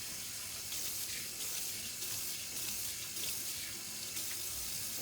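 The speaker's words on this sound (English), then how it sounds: "So have the water running and kind of rinse the soap out." A kitchen sink tap runs steadily to rinse soap off dishes, a constant hissing, splashing stream close by with faint clinks of dishes under the water.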